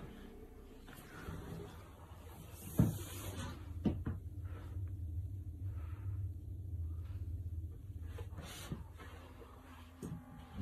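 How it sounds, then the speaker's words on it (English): Door in a dark room being pushed shut, a low rumbling creak with a few knocks and a thud along the way, fairly quiet against the room's hum. "he's closing the door"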